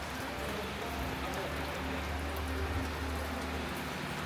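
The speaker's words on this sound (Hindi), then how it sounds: "तेज़ बारिश शुरू हो गई है।" Heavy morning rain pours on a mountain route, a dense, steady hiss of falling water with a low rumble underneath, constant and fairly quiet with no distinct voices.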